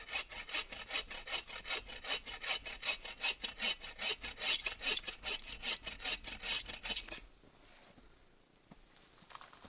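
Firewood being cut with a Boreal Agawa Canyon 21-inch folding saw: close, loud, steady rasping strokes in a quick back-and-forth rhythm for about seven seconds, then stopping.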